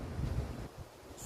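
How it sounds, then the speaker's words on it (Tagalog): Wind blows across a backyard with trees on a windy day, a soft low rushing buffet against the microphone, fairly quiet and steady for just over a second. "It's windy."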